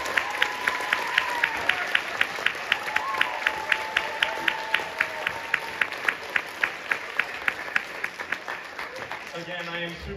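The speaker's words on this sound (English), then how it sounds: "Give one more round of applause." A middle school spring choir concert audience applauds, a steady crowd clapping with one very regular, prominent near clapper beating out evenly spaced sharp claps, while people murmur and speak over it.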